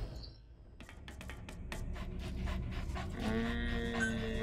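D-Dog, the canine companion in Metal Gear Solid V, panting in quick close breaths, with a faint whimpering tone toward the end.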